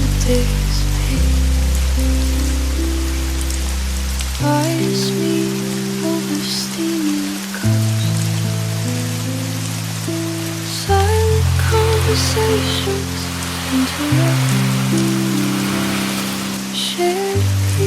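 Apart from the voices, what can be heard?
rain at a seaside cafe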